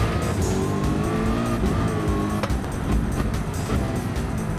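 Racing car engine running hard in Gran Turismo 7, driven on a Fanatec CSL DD sim wheel setup, with a steady loud roar, shifting engine tones and brief tire squeals through the whole stretch.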